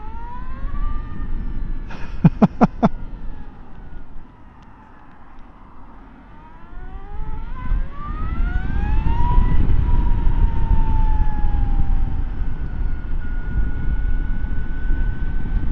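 Electric motorcycle motor whining as it accelerates, a rising electric tone sweeping upward over a steady road rumble, with a brief cluster of clicks near the start; loud and close, with no talk.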